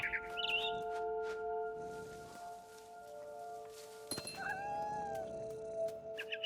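A cat in a video game meows and yowls loudly a few times over a steady tonal background, with soft rustling in between.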